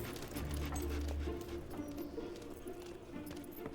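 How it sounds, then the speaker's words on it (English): A dog whimpers briefly in the video game Fable 2, a soft low whine in the first moments over steady game ambience. "Such a good dog."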